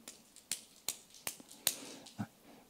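A church lecture audience slaps the backs of their hands five times together, giving crisp, evenly spaced smacks that are fairly faint and slightly ragged, followed by a soft low thud.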